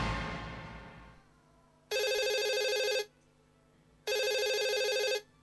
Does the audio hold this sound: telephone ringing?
yes